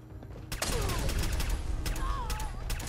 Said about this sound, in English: Who's using that bloody incendiary rifle